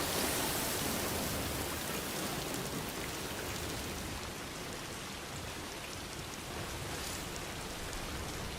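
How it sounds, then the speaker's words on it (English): Steady, dense timefall rain in Death Stranding 2 pours evenly throughout, a close, unbroken hiss of drops on surfaces with no other sound rising above it. "Oh, great, the rain."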